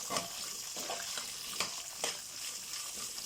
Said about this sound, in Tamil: ஆனியன்ஸ் நல்லா ப்ரௌன் ஆகிற வரைக்கும் வதக்குங்க